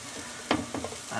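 Pork browning in a pan gives a soft sizzle with a few brief stirring scrapes, close and fairly quiet over about a second.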